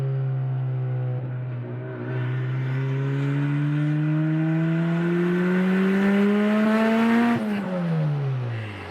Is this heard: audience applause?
no